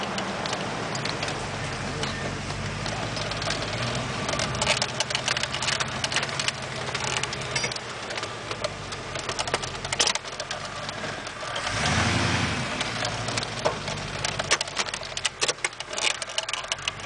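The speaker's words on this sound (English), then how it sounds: "Now we're going to drive this, give you some idea what it feels like." A car fitted with a 350 engine is driven, giving a continuous engine drone and road rumble heard from inside the cabin, with a brief surge in the low rumble midway through.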